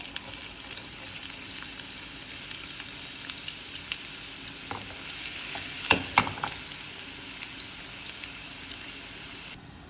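Onions frying in hot oil in a wok for a gourd and shrimp curry, a steady close sizzle with a few sharper crackles and stirring scrapes near the middle, no talking.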